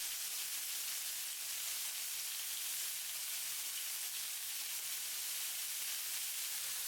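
Lemongrass beef skewers sizzle steadily in a hot pan, a dense, even frying hiss that holds at a constant level throughout, close up and with no voices.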